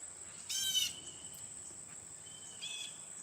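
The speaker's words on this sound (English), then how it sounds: "Oh, it's a blue jay. That's right. They're very loud." A blue jay gives a short, harsh outdoor call. A second, fainter call follows a couple of seconds later over a quiet background with an insect drone.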